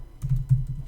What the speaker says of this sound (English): you could simply do this in the Python shell. You could simply type